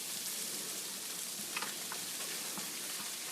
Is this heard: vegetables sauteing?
yes